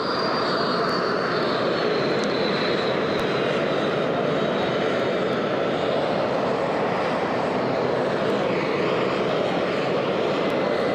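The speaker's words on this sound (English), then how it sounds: "Impressive pilot who can park a 747 as easily as a Ford Taurus, pulling it around and into place" A Boeing 747 taxis into place on arrival, its aircraft engines giving a loud, steady, broadband roar with a faint high whine that stays constant throughout.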